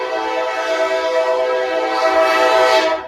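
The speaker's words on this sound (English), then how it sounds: "I'm gonna pause for the train" A train passing close by sounds its horn, a loud sustained blaring chord that holds throughout and swells slightly toward the end before cutting off, with no talking over it.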